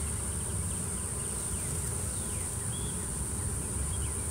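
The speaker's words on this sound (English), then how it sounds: "It's a lot of bees." A dense, steady buzz of a honeybee swarm fills the air continuously, a thick humming mass with no voices.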